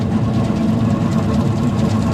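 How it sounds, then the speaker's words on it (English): A low-speed granulator fitted with a 4 mm screen grinds soft plastic material, giving a steady, loud, low mechanical hum with faint churning texture throughout and no talking. "See, the machine has no problem with your material at all."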